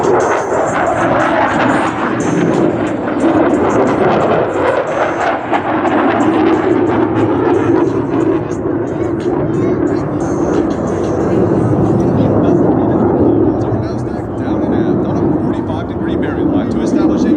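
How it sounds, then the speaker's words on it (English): Blue Angels jets fly past in an echelon parade at 378 miles per hour at an air show in Los Angeles, a loud, sustained roaring engine wash that swells and fades under an announcer's voice. "From the right at 378 miles per hour, the Blue Angel Echelon Parade."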